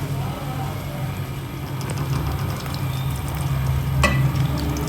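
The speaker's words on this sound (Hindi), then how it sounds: "अब खोए को घी में मैं मेल्ट कर लूँगी।" Khoya melting in hot ghee in a pan gives a steady, close sizzle while a spoon scrapes and stirs it, with occasional sharper clinks of utensil against the pan.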